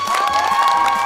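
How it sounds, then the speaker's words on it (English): An audience claps and cheers loudly at a concert introducing a trap group from North Atlanta, Georgia, with dense steady applause and shouts throughout the brief moment. "Please, start clapping your hands now."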